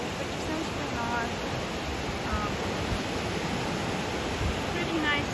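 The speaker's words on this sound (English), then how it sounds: "Pretty nice waves." Ocean surf at Cocoa Beach, Florida on a cloudy day, a steady broad rushing wash of breaking waves that stays loud and close throughout with no pauses.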